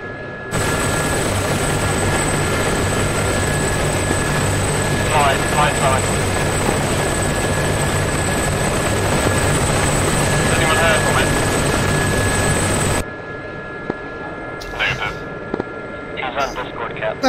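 A Gazelle helicopter flies in the DCS World combat flight game, its steady loud rotor and turbine drone filling the scene before cutting off abruptly, with voices talking over it.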